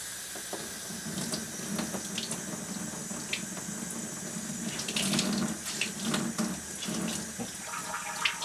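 Water from a sink tap runs steadily for several seconds while a paintbrush is cleaned, with a close, continuous splashing hiss and a few small clatters and knocks on top, and no voices.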